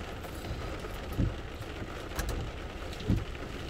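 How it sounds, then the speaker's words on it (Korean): Rain falls steadily on a taxi during a heavy monsoon-season downpour in Taebaek, a constant hiss of drops on the car body with a few louder thuds, close and even in level. "아, 아따 비가 오네."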